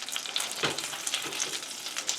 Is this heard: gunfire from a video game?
no